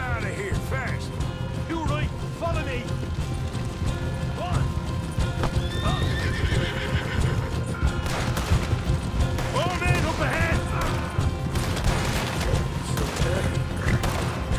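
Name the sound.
gunfire in Red Dead Redemption 2 video game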